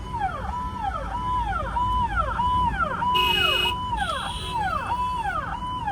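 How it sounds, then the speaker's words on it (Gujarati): A police car siren wails in a steady rising-and-falling cycle, loud and close behind in a traffic jam, with a brief horn-like blast partway through. "આપણી પાછળ પોલીસની ગાડી આવી ગઈ છે."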